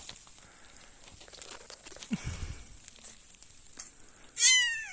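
A mother cat with newborn kittens in hay: soft rustling and crinkling of dry hay, followed by one clear, rising meow near the end.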